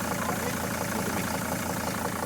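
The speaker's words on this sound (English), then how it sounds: "Let me shut the engine off here, it's too loud." A Mercedes TN1 Sprinter van engine idles steadily and loudly, a dense continuous rumble with a faint knocking texture running unbroken from start to finish, with no talking.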